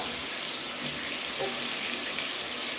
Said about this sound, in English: Then you're going to add my water.